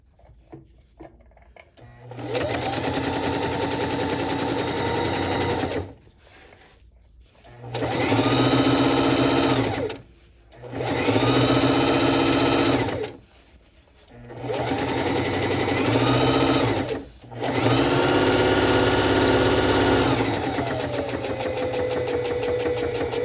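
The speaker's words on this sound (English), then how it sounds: "when you turn the machine on, you can either put it in turbo boost mode or slow mode" A bernette sewing machine stitches a pillow project in bursts: several loud, close runs of steady motor whir lasting a few seconds each, separated by short pauses.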